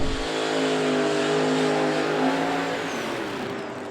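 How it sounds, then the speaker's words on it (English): A black late-model Dodge Challenger drag car with a ProCharger-supercharged late-model Hemi V8 holds a loud, steady high-rpm roar with strong layered harmonics, then eases off slightly near the end. "his black late model Challenger with the late model Hemi Pro Charged power plant under the hood"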